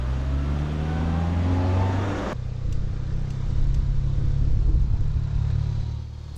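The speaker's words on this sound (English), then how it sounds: "I've just noticed this van coming across." A Tentacle van for tents and marquees drives past, a loud close road rumble that swells and then fades, with the engine drone continuing at a lower level.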